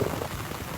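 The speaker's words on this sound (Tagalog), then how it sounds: "sobrang lakas na naman po nung ano, nung buhos ng ulan" Heavy rain pours beside the Marikina River as a dense, steady roar of drops hitting surfaces, loud and close, with no voices.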